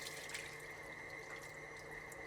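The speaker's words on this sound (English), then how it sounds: "So I'm just gonna run water into it." Tap water runs steadily into a bowl while siu mai filling is washed in a kitchen, producing a constant faint splashing hiss with no break.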